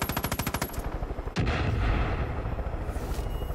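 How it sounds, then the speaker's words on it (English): Video game gunfire from Fat Man Cries 5, a fast burst of rapid machine-gun shots that cuts off abruptly into a loud, rumbling explosive roar lingering to the end, with no talk. "I'm shooting it."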